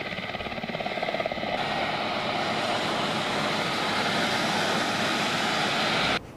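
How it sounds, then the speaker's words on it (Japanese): A loud, steady rotor-engine roar of a coast guard helicopter during a sea rescue drill, continuous and close, cutting off abruptly near the end. "海上保安部のヘリコプターと巡視艇が捜索や救助にあたり"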